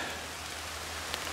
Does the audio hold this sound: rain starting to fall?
yes